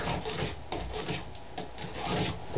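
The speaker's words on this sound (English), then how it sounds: "I'm going to use another tool here, a spoke shader, to clean up to the line" A spokeshave shaving wood to a line makes steady, close rasping strokes in a continuous rough rhythm of repeated pushes, with no one talking.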